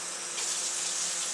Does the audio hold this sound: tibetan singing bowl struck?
no